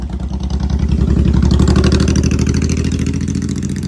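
A motorcycle engine runs steadily close by, a loud pulsing mechanical drone that swells slightly in the first second and then holds an even rhythmic idle, with no voices over it.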